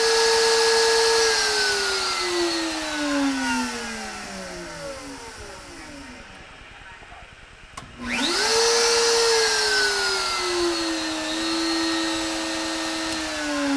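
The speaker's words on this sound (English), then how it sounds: "I was just playing with the speed control on the spindle" An Inventables X-Carve spindle whines steadily, its pitch sliding down as the speed control is turned back, dropping nearly to silence, then surging up again and settling at a lower steady tone.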